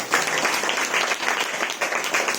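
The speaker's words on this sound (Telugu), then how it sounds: "చప్పట్లు కొట్టండి ఒకసారి" A church congregation claps together in steady, dense applause, close and continuous across the short stretch with no break.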